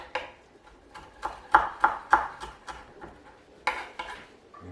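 A knife chops through coriander leaves on a cutting board in a home kitchen, sounding as a run of crisp, close knocks in an uneven rhythm with gaps between the bursts.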